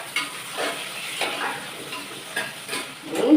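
Onions frying in hot oil at home, a soft crackling sizzle with intermittent bursts of spattering and stirring, fairly quiet and close, growing louder at the very end.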